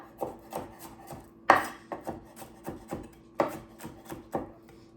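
A knife mincing fresh garlic on a wooden cutting board, with a steady run of close, crisp chops and a few louder hits, about two strikes per second.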